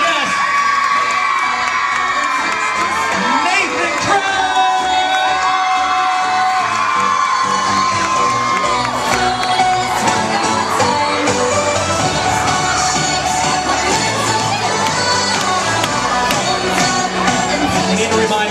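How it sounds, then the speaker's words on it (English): A mall crowd cheers, whoops and shouts continuously, with children's voices among them, as a returning actor arrives at a meet-and-greet; the dense noise is loud and steady throughout. "let's have a big round of applause for him"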